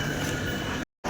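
A train rumbles steadily at Thane railway station on platform one, a loud dense roar of wheels and carriages that cuts out abruptly near the end, then resumes.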